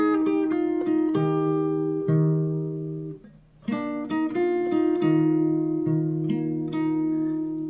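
Fingerstyle acoustic guitar plays the first chorus of a song, plucked notes and paired strings ringing clearly in a steady melodic rhythm, pausing briefly midway before resuming, solo and close.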